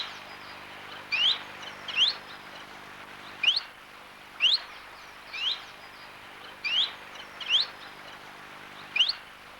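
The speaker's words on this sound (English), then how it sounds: "And then chiffchaff." Chiffchaff calls ring out in British woodland, a series of about eight short, rising 'hweet' notes spaced irregularly a second or so apart, clear and moderately close against a quiet background.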